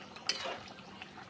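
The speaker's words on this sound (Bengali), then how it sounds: "এবার আমি এটা ভালো করে মশলাগুলো মিশিয়ে নেব, নেড়ে চেড়ে" Spices are stirred in a cooking pan, giving a brief scrape and clink of a utensil against metal. It is quiet and close, with no talking.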